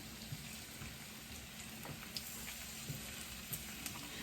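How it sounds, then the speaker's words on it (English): Potatoes fry in hot grease in a pan, a quiet steady crackling sizzle with small pops scattered throughout and no talking. "now you're just going to carefully add your potatoes to the grease"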